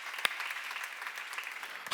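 A church congregation claps during a Bible seminar, a soft, steady patter of many hands at moderate distance with one sharper clap near the start and a louder burst at the end.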